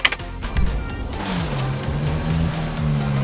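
A Kia K3 2014 car in GTA5 drives off, its engine a steady low hum that rises slightly in pitch, preceded by a few brief clicks and thumps at the start.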